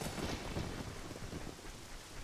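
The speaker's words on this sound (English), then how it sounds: "I love how it kind of builds this ominous atmosphere with all the heavy rain" Heavy rain and rolling thunder in the Shadow Temple section of Zelda Ocarina of Time, a dense steady downpour with low rumbling, fairly quiet and continuous throughout, no talking.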